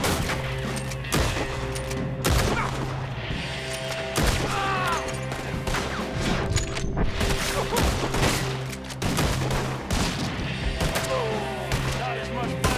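Repeated gunshots crack through a Red Dead Redemption 2 shootout, sharp reports scattered across the whole stretch with crashes and thuds, while voices speak and shout in between.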